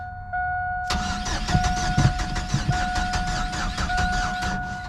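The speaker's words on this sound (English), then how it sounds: "See, it just doesn't want to start." A Chevy S10 engine cranks but fails to start, a dense, continuous rapid churning of the starter motor under a steady tonal hum, loud and close throughout.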